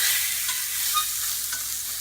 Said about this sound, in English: in the pan cooking over a medium-high heat, a couple tablespoons of olive oil, and they're just getting ready to turn over.